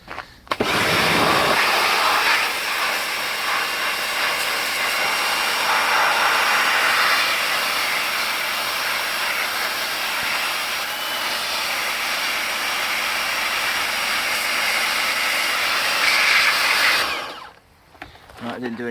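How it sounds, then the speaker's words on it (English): A pressure washer jet-washes baked-on brake dust from car alloy wheels, giving a loud, hissing roar that runs steadily for about seventeen seconds and then cuts off abruptly near the end. "Right, so, jet wash."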